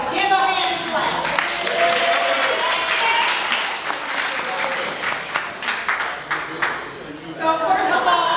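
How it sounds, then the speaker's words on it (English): An audience at a family reunion claps their hands in steady, lively applause that stays dense for several seconds before tapering off, with a few voices mixed in. "So give a hand clap."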